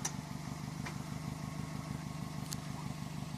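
A 2008 Subaru WRX with no mufflers, a downpipe and stock catback idles close by with a steady, throbbing low burble and a few faint clicks.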